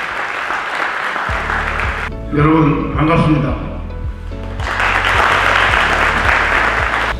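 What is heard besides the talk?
applause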